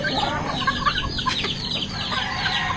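Chickens cluck in short, busy bursts, several birds calling over one another at a moderate distance.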